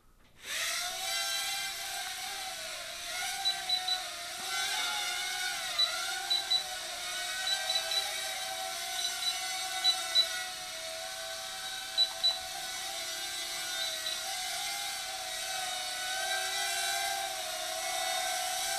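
A Dromida KODO RC quadcopter drone hovers and flies, with steady high-pitched motor and propeller whine that rises and dips slightly as it is trimmed, close and continuous throughout.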